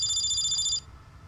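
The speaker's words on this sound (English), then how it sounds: "But then someone's phone rang." A phone in the Steins;Gate 0 video game rings with a bright electronic trill, one rapid pulsing burst lasting under a second, then stops over a soft low background hum.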